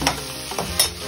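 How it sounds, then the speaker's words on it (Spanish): Red sauce being stirred into salami locrio in a pot, a spoon scraping in quick strokes with a soft sizzle underneath, three short swishes close by over about a second, no voices. "Mezclamos todo eso, mi gente, para echarle agüita."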